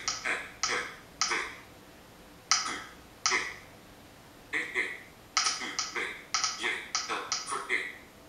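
Taps on a phone screen keyboard with VoiceOver come as short crisp clicks, some single and some in quick clusters, each followed by brief spoken feedback, with pauses between groups.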